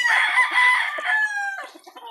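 A bull stag rooster, a Sweater or Golden Boy Sweater gamefowl, gives one loud, close crow that rises and then tapers off.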